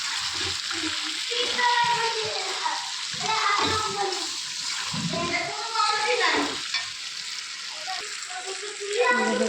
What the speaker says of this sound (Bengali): জল দিয়ে দিয়েছি, ফুটতে লেগেছে